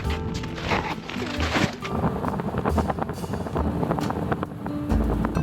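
Strong wind buffets the microphone on a snowy mountain ridge during a ski tour near Sisteron, a loud, ragged roar of gusts that rises and falls without pause.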